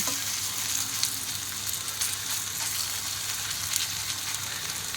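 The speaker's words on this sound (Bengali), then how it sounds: "তো আবারও আমি এভাবে করে 1 চামচ করে এর মধ্যে দিয়ে দিলাম, দিয়ে আমি এগুলোকে ভেজে নেব।" Gram flour and flattened rice snacks fry in hot oil with a constant, even sizzle and crackle, heard up close and alone.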